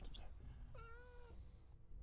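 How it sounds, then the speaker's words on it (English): A cat gives a single short complaining meow, close but fairly faint, over a low background rumble. "I heard the complaining meow."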